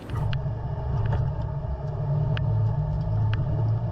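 A 2015 Toyota 4Runner fitted with SumoSprings rolls over a bumpy test course, giving a steady, loud low road rumble with scattered faint knocks and clunks from the suspension, and no talking.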